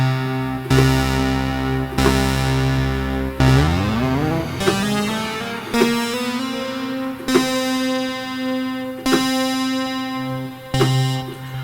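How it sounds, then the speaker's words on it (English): Sequence of sustained Arturia PolyBrute analog polysynth notes with oscillator 2 synced to oscillator 1, giving a sweeping, tearing harmonic timbre; notes change roughly every second or two, one gliding downward, loud and alone with no voices. "And you can also sync oscillator 2 to 1."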